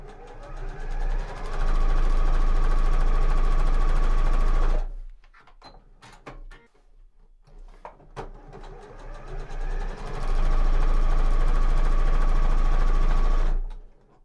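A domestic sewing machine stitches together three quilt block pieces in two loud, steady motor bursts with a brief quieter pause of handling between them.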